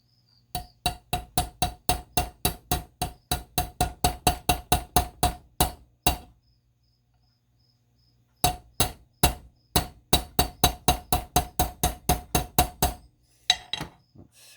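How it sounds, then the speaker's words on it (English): A small socket is struck by a hammer on a Waring Futura 900 blender motor part with a failed fan, in two long runs of sharp, evenly spaced metallic taps, close and loud, separated by a pause of silence. "I'm going to take this little socket,"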